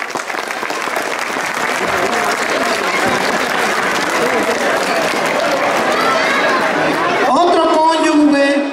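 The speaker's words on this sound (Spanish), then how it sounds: "Los novios, que yo quisiera que le diéramos un caluroso aplauso." Guests at a wedding in Jarácuaro, Michoacán applaud the bride and groom with sustained, dense clapping from a sizable crowd. A voice speaks over the applause near the end.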